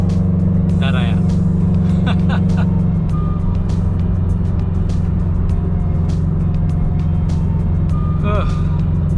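A Subaru BRZ / Scion FR-S / Toyota 86 with an aftermarket exhaust driving on a backroad, a loud, steady droning engine and exhaust note heard from inside the car, with a few short tonal chirps over it.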